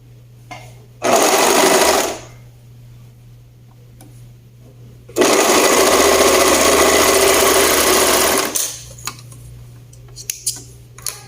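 A sewing machine stitches a seam on a blouse with a chimney neckline and Japanese sleeve. It runs in two steady, loud bursts, a short one and then a longer one, followed by a few small mechanical clicks.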